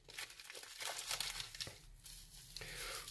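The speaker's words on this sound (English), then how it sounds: "Plastic bag, maybe for the garbage." A plastic bag from a Polish military breakfast ration is crinkled and handled up close in quiet bursts of crackling, faint and irregular with no talking.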